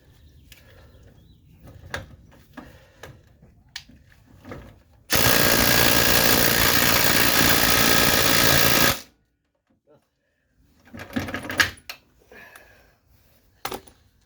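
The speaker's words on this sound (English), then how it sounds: "I'm starting to question the strength of that impact wrench." An impact wrench on a Kia Sportage fires one loud sustained burst of about four seconds, with quieter clanks and handling noises before and after.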